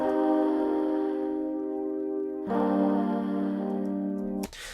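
Muffled, EQ-filtered chord sample for a beat, highs rolled off and low end shelved up to about 770 Hz, giving a murky underwater tone; two long sustained chords, no talking.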